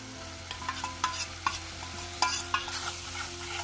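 Roasted gram flour stirred in a pan while cooking for aloo sabzi, repeated scraping strokes of a spoon in an uneven rhythm over a low sizzle and hum, close up, no voices.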